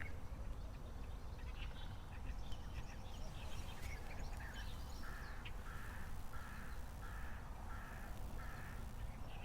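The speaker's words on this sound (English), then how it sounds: "Do you hear the crows" Crows caw at dawn by the Sea of Galilee in a faint, distant series of about six evenly spaced calls over a quiet outdoor background hiss, with scattered other bird sounds and no talk.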